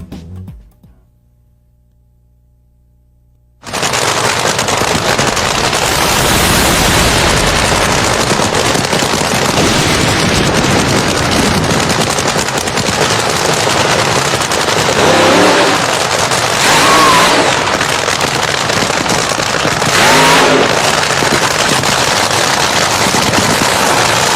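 Nitro race cars with cackling open exhaust pipes: after a few seconds of quiet, a loud, raw, rapid crackling rumble bursts in and roars on continuously, surging in intensity like a machine-gun rattle.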